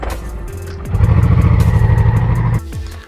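A Honda VT 500C Shadow motorcycle engine idles and then revs as the bike rides off, a loud, close, throbbing V-twin pulse that swells for about two seconds before dropping away, with no talk.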